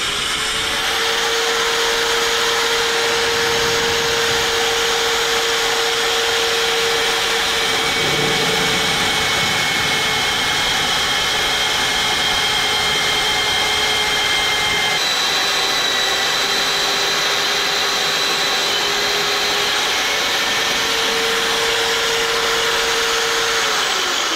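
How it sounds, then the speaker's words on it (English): A power drill with a slugger bit grinds steadily through metal on a dump truck, a loud continuous whine holding for the whole stretch with slight shifts in pitch, no voices. "so let's drill a hole."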